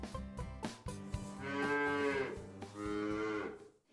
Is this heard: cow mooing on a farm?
yes